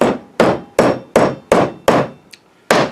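Hammer blows drive a wooden handle the last fraction of an inch into a hammer head: seven sharp, loud, evenly spaced strikes roughly every 0.4 seconds, plus one faint tap, with no talking.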